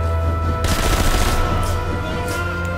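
Gunfire in the video game Sniper Elite V2: a dense burst of rapid automatic shots erupts loudly and then fades into a ringing tail over a low background hum, with no speech.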